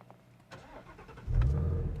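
A Shelby GT350R engine fires up from the push-button start, a short starter whir and then a loud, deep idle settling in close by, with no talking.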